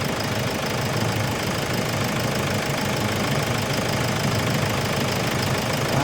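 A car engine running loudly and steadily up close during coolant bleeding after a new radiator hose install, a rough, knocking mechanical drone with no clear pauses and no talking.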